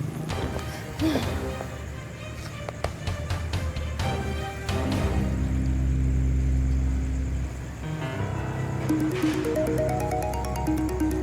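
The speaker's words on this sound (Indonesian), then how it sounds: "kok ada bunyi telepon dekat sini?" A phone ringtone chimes in repeated short electronic tones near the end, following a stretch of loud rumbling, clattering and knocking noises.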